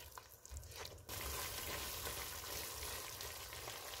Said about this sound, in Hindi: इसको 2 मिनट तक भूनेंगे।